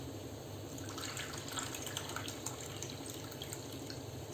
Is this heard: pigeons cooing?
no